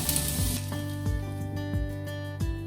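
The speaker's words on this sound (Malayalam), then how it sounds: "ഇത് ചൂടായി കടുക് പൊട്ടി തുടങ്ങിയിട്ടുണ്ട്" Mustard seeds splutter in hot oil in a Kerala home kitchen: a steady sizzle with a run of sharp, evenly spaced pops close to the pan.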